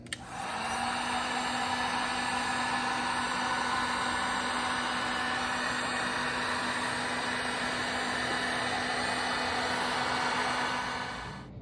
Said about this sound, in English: I'm going to hit it with a heat gun just around the edge on that butyl tape